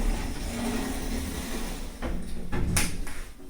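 Car park lift doors on a modernised Schindler lift in a shopping centre slide shut, a low mechanical rumble ending in a few soft thuds, with faint background hum throughout.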